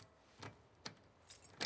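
Keys jangling in The Last of Us Part II, soft metallic jingles in four short bursts, quiet and separated by near silence.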